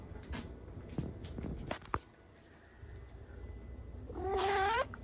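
A cat in a small box gives a short harmonic meow-like cry near the end, after soft scuffling, rustling and faint taps close by; no one speaks.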